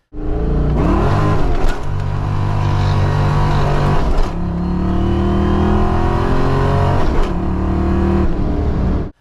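A modified Fox-body Mustang engine with a B cam and aluminum heads revs hard several times, each loud rise in pitch cut off sharply before the next, with a rough, throaty tone.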